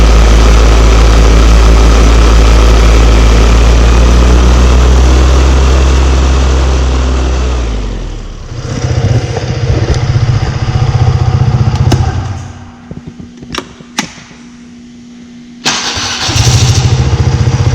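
A Fresh Breeze Bullix 4-T four-stroke paramotor engine cold-starts on a freezing morning. It roars loud and close for about eight seconds, then settles into a rougher, lower idle with a few brief dips and bursts before revving again.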